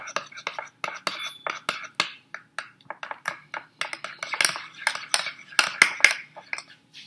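A homemade face mask stirred in a small bowl, with soft repeated scraping and light clinks of a utensil against the dish, close and quiet, in an uneven steady rhythm.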